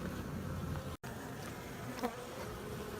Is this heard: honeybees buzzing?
yes